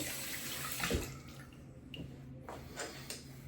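Cold water runs steadily from a tap during a straight razor shave, a constant hiss and splash with small clinks and sloshes as hands or the razor pass through the stream.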